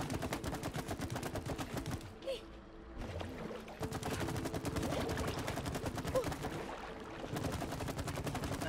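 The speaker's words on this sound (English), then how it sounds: "Now you gotta dodge artillery" Rapid, repeated thudding bursts of artillery fire in the video game It Takes Two pound steadily throughout, dropping out briefly before resuming, with faint game noise underneath.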